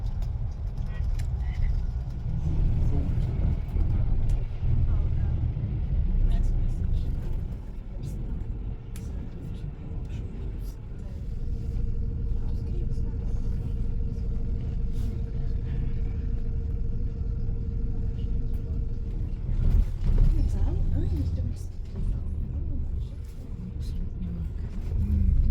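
A Transdev 840 Coastliner bus drives through a village, its engine a steady low rumble heard from inside, with gear changes and swells of revving, while a person talks intermittently over it.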